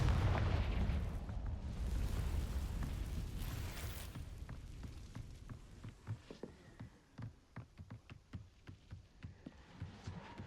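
The Confringo explosion spell goes off in Hogwarts Legacy as a loud, rumbling burst that fades over a few seconds, followed by a series of quieter, regular crackling pops and impacts.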